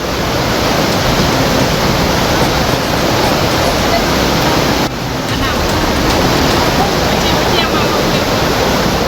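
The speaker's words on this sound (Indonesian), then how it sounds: "banjir bandang kembali menerjang kawasan Batu Buswak, Kecamatan Pauh, Kota Padang, Sumatera Barat" Floodwater from the overflowing Batang Kiranji river rushes through a residential area of Batu Buswak, Pauh, Padang, West Sumatra, as a loud, continuous roar with a brief dip midway.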